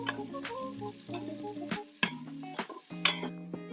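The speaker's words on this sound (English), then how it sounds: "As you can see, the butter and oil are sizzling, and the guanciale is starting to render." Guanciale and chopped garlic sizzling in butter and oil in a pan for spaghetti carbonara, a quiet close crackle with a few sharp clinks and stirring knocks.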